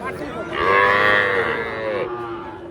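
At a village cattle market, a cow lets out one long, loud, drawn-out moo that rises and then falls away over about a second and a half, close by and over a low murmur of background noise.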